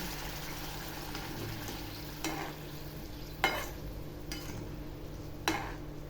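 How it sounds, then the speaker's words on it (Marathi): Ragi khichdi is stirred in a pan with a soft continuous frying hiss and a few sharp scraping clicks of the spoon against the pan, close and without speech. "आता याला चांगलं हलवून घेते नाचणी चांगली मिक्स झालेली आहे"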